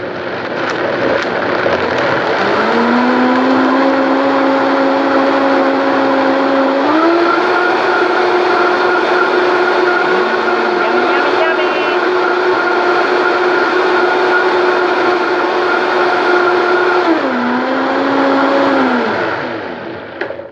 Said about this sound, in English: give me a sec in the noise, and I'm going to get this blended up